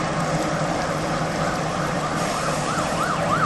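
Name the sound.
ambulance siren approaching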